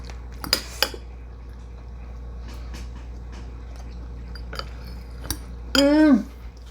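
Cutlery clinks sparsely against a dish as someone eats baked brown rice casserole, a few sharp taps spread over a quiet room, followed near the end by a brief high whining sound.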